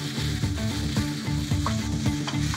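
Steady sizzling of chicken breast and eggplant frying in a pan, with occasional scraping stirs, close and continuous.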